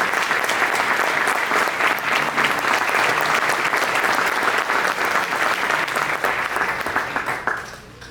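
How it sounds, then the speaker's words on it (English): Sustained applause from an audience at the 30th annual Long Island luncheon at Stonebridge Country Club, dense and steady for about seven seconds before tapering off at the end. "How about another round of applause for all of our"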